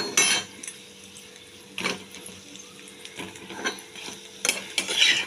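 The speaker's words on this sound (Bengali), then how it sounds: "দেখুন বন্ধুরা কীরকম ভাজা হয়েছে, মুচমুচে কীরকম আওয়াজ হচ্ছে।" Crispy lentil fritters (bora) fried over low heat in a pan, turned and lifted with scattered scraping clatters and light sizzling crackle, close by and moderately loud, with no talking.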